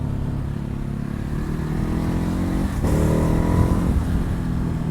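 A 2019 Ducati Hypermotard 950 base model engine drones steadily while riding, loud and close, with a slight rise in revs partway through.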